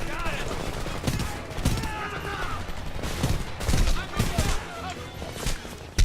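Scattered gunshots crack in the Homefront video game, sharp irregular bursts and single reports spread across the span, with a voice talking underneath and a final loud shot at the close.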